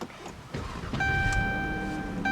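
A 2013 Chrysler 300's 3.6-liter Pentastar V6 engine cranks and catches, then settles into a steady idle hum with a faint high whine, heard from nearby.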